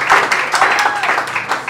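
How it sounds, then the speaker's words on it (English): Wedding guests applaud the bride after her vows, a brief, lively burst of many hands clapping close by in an indoor room. "Let's clap for her"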